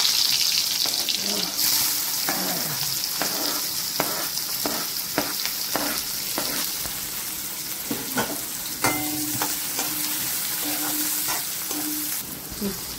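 Cumin, asafoetida and garlic fry in hot oil with a bright, constant sizzle. Repeated scraping strokes and knocks from a spoon stirring the pan rise over it at an uneven rhythm, and a few brief faint voiced sounds come through.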